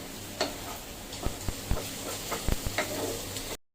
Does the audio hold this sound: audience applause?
no